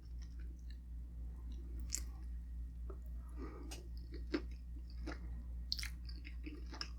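Chewing on Filipino pork, crispy pata or dinuguan pork blood stew, comes through as faint, close mouth sounds, with soft crunches and wet bites scattered over a steady low hum and no talking.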